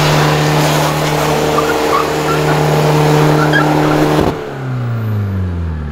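A chip-tuned Audi A3 quattro 1.9 TDI on fresh, nearly new tyres doing a burnout: a loud, steady high-revving engine with spinning tyre noise that cuts off abruptly, then the revs fall away.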